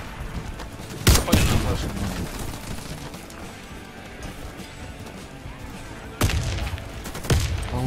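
Gunfire in a video game: two sharp bursts of loud shots crack out, with scattered clattering impacts between them, while players talk over the action.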